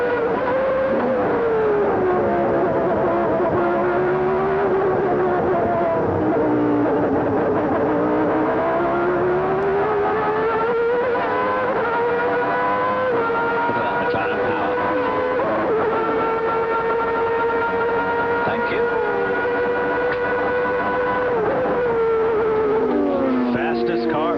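Formula 1 cars race at the 1989 Japanese Grand Prix, a loud, high engine whine rising and falling with gear changes and passing cars, continuous for the whole stretch, with a commentator's voice faintly beneath.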